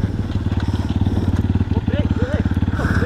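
A dirt bike engine at a dirt-track internal race runs close and loud with a steady, rapid pulsing idle, while people talk over it.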